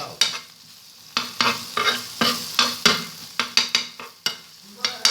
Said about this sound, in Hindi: अब दाल को और इस सबको मिक्स कर लेंगे।